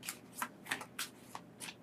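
Tarot cards being shuffled by hand: six or seven quick, crisp riffling bursts in an irregular rhythm, close and fairly quiet.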